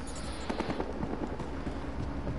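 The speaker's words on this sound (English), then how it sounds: "I hear gunfire." Gunfire in the Battlefield Hardline video game: a quick cluster of sharp shots and bursts over a steady, busy game backdrop.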